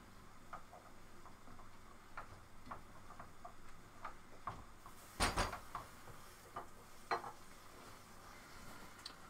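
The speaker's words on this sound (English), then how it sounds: "Just going to quickly check the meat. Give it a nice stir." Minced meat browning in a pan for spaghetti Bolognese, with soft scattered ticks and scrapes of stirring over a low sizzle and a louder clatter midway.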